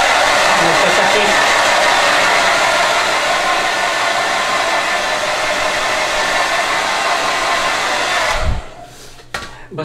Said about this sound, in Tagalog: Kailangan ko mag-dry ng hair kasi